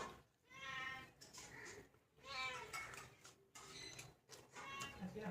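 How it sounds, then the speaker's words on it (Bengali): A house cat meows repeatedly while someone eats, three or four drawn-out, plaintive cries at close range, faint overall with soft background noise between calls. "বিড়ালটা আমাকে রোজ বিরক্ত করে খাচ্ছে"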